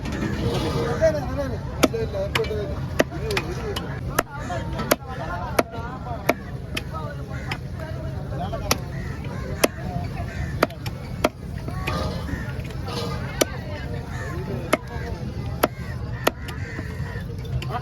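Fish being chopped into pieces with a knife at a fish stall, sharp regular cleaver chops striking repeatedly through steady background chatter and market noise, with people talking throughout.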